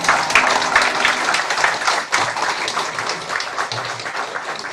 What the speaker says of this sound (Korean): 나오실 때 우리 큰 박수로 할렐루야 환영하겠습니다